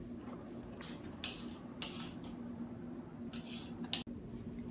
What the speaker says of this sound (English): time to peel the carrots